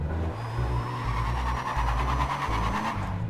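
Mitsubishi Eclipse in Need For Speed World skidding under the handbrake, a loud engine drone with squealing tires layered over it, running continuously for a few seconds.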